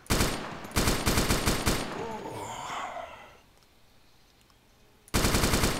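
Automatic gunfire in a video game comes in rapid loud bursts at the start, then a short gasping breath, a quiet pause, and another fast volley at the end.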